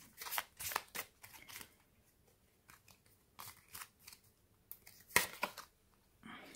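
Tarot cards shuffled and cut by hand, heard as close, crisp bursts of riffling and slapping card noise in irregular clusters with short quiet gaps between them, with no talking.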